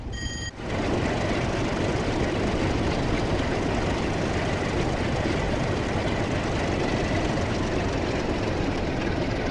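An LNER train runs on the West Coast Main Line in Train Sim World 6, a dense, continuous, loud rolling roar. A brief tonal beeping sounds at the start, with no talk.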